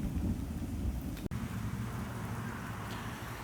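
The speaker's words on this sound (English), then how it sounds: "And there's the thunder." Thunder rolling during rain at an outdoor campsite cooking spot, a low distant rumble over the steady hiss of rainfall, with a sharp crack near the middle and no talking.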